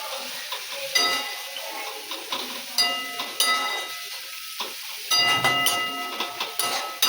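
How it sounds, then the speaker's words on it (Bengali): Stone-ground spice paste for mutton curry sautés in a pan with a soft sizzle, punctuated by repeated scraping stir strokes up close. "এই যে এখন মশলাটাকে কষাচ্ছি"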